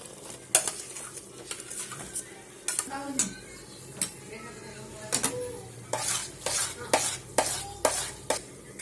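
A spoon scrapes and clinks against a pan as green khichdi is stirred, with about a dozen sharp metallic strokes in an irregular rhythm over a faint sizzle.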